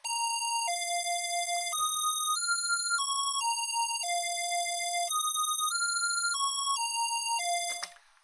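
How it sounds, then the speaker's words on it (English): Synthesizer top line from a single oscillator playing a square wave, a clean bright melody of sustained stepwise notes, evenly paced and alone, ringing like a chime before fading out at the end. "I've got one oscillator playing a square wave"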